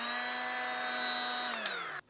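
A die grinder converted into a band file spins up with a steady high-pitched whine and several ringing tonal harmonics, then winds down slightly in pitch before cutting off abruptly.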